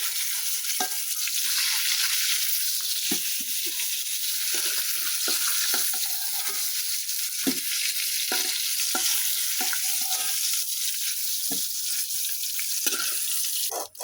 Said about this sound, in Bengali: এই যে এখন আমি গোলসাগুলো একটু ভাজে নেব।